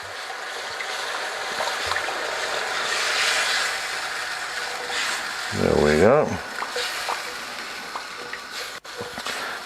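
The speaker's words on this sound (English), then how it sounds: "start pouring our red wine" Red wine pours into a hot pan to deglaze it, setting off a rising hiss and sizzle that swells briefly before settling, with a voice speaking softly over it.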